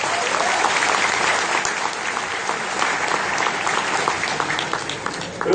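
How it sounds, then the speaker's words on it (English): An audience at a talk by cricketer Stephen Fleming breaks into applause, a steady wash of many hands clapping that carries evenly for several seconds before a brief rise at the end. "so he deserves a clap."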